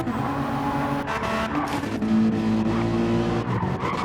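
A Ferrari GT3 race car slides around a corner at Bathurst in a racing video game, with a loud engine and tyres squealing steadily as it loses traction, scraping along the wall.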